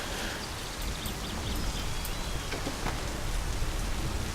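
Steady rain falls in the video game My Summer Car, a dense, continuous hiss of drops on surfaces that runs at an even, fairly loud level throughout with no speech.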